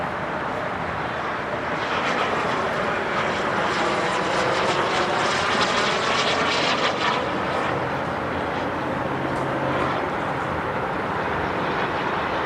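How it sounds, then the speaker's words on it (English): Turbine-powered RC model jet passing overhead at a jet rally, a steady loud whooshing roar that holds for the whole stretch with a slight swell in the middle, no voices. "Jet passes overhead, 3 down, 3 green, setting up for base to final landing."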